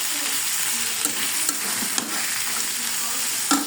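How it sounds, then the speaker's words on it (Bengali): Leftover beef curry is reheated in a pan, a constant loud sizzle with the scrape of a stirring spoon recurring every second or so, close and with no talk. "তরকারিটা আমি গরম করে নিতেছি।"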